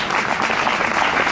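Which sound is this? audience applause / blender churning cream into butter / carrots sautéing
audience applause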